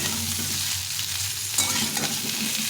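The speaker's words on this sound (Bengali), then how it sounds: "এরকম করে আলুগুলো ভালো করে একটু ভেজে নেবে" Small red potatoes fry in a pan, giving a steady close sizzle with brief scraping as they are stirred, and no talk.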